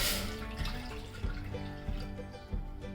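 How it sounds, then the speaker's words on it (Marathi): Water splashes and trickles steadily as a bowl of water is poured into a metal pot on a gas stove, with a few soft knocks and drips in between. "त्याच्यामध्ये मी एक वाटी पाणी घालते"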